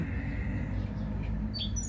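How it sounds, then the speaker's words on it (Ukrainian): Birds singing outdoors in a spring tulip garden, a few short faint chirps and high tweets over a steady low background of outdoor noise, with no voices heard. "І ще й пташки співають, це пташки вітають вас."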